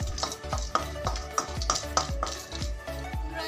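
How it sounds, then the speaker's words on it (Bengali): Whole cardamom pods and cinnamon sticks are stirred in a hot, dry wok. A spatula scrapes and taps in a steady rhythm of about two strokes per second, close and fairly quiet, with the spices rattling and no voices. "সেই কারণে আমি এগুলোকে আগে শুকনো খোলায় নেড়ে নিচ্ছি।"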